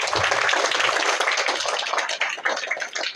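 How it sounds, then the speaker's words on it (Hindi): A school audience of students at a village school in Azamgarh claps for a seventh-grade pupil's correct answer, a brisk crowd of hands applauding steadily and fairly loudly, fading slightly toward the end. "इनके लिए एक बार ताली बजाइए आप लोग"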